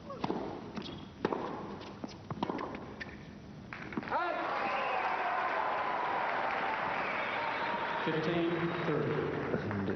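South American supporters in a tennis crowd at the Sydney tournament final break into sustained applause after a few scattered claps and thuds, a dense wash of clapping close and loud, with a commentator's voice over the top.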